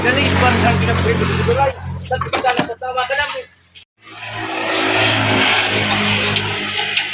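A motorcycle engine runs close by, loud and steady, then cuts briefly and picks up again with a sustained drone while people talk over it.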